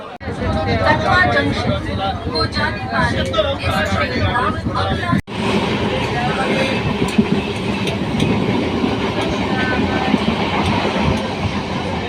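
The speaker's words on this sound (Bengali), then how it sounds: "আমাদের ট্রেন এখন দাঁড়িয়ে আছে ত্রিবেণী স্টেশনে" A Howrah–Katwa local train standing at Tribeni station, a continuous rumble of the stationary coach mixed with a busy crowd babble and people talking nearby, with a sharp brief drop partway through.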